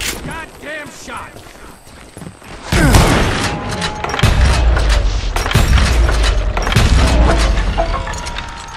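Gunshots in the Wild West shooter Call of Juarez Gunslinger, a string of sharp loud reports starting about three seconds in and repeating irregularly over rumbling game sound, with a voice speaking early on.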